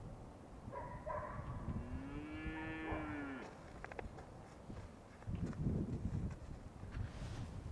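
A Highland cow on an off-grid homestead gives one long, clear moo over steady outdoor wind, followed by rustling and footsteps nearby.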